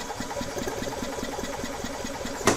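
A 2004 EZGO TXT gas golf cart engine cranking over on the starter during a compression test, with rapid, even, rhythmic chugging pulses at moderate-low level, ending with a sharp click.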